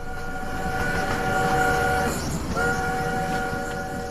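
A train rolls along with a steady low rumble while a long tonal whistle sounds twice, the second blast starting after a brief gap, loud and close as a background effect.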